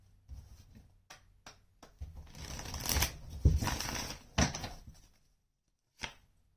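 A deck of tarot cards is shuffled by hand in a reading, soft riffling and tapping bursts that build into a dense flurry, then a few sharp taps, close and quiet with no voices.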